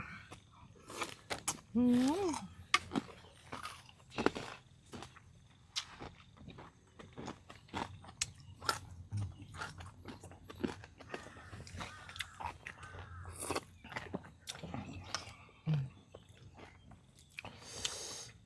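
Close, crunchy biting and chewing on crispy shells of steamed fresh shrimp come in irregular bites, with a person talking at times.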